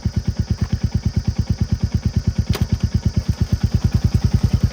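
A motorcycle engine runs in first gear on a stand so the rear wheel and chain turn for chain maintenance, its steady, rapid thumping pulses loud and close with no talk.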